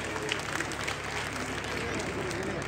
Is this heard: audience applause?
yes